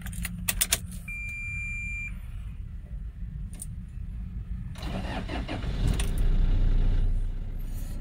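A 2014 Toyota Kijang Innova Type G automatic diesel: keys jangle and rattle briefly, then the starter cranks and the engine catches, settling into a steady, close diesel idle.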